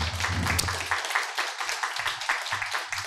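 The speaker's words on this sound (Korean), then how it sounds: "성기서 교수님께 여러분 다시 한번 큰 박수 부탁드립니다" An audience claps after a lecture on reading Shakespeare's Othello at a humanities forum, a short burst of dense applause that thins out over a few seconds, with a voice briefly over the start.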